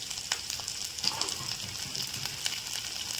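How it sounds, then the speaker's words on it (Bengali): Chopped onion, garlic and chilli frying in hot oil in a kadai, a steady soft crackling sizzle with small pops throughout, moderately quiet and without talk. "দেখো আমার তেল গরম হয়ে গেছে এবার এতে দেবো পেঁয়াজ কুচি দেবো হচ্ছে রসুন কুচি আর লঙ্কা কুচি"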